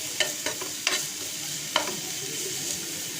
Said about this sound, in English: So our onions are lightly sauteing here,